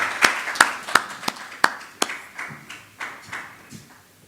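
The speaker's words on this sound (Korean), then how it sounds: "큰 박수로 모시겠습니다." Scattered clapping from a small audience at a lecture event, about a dozen distinct claps at first with sharper isolated hits, then softer overlapping applause trailing off, moderately distant.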